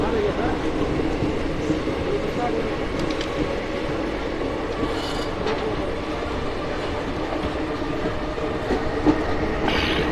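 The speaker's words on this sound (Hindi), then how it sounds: "यह रेयर लोकोमोटिव वेल्को की आवाज़, बड़े सुंदर कर्व के साथ ट्रेन यहाँ से निकलती है" A rare ALCO diesel locomotive hauls the Shramjeevi Express away from a station in Bihar on a curve, giving a continuous loud rumble with rolling wheel clatter and brief squeaks throughout.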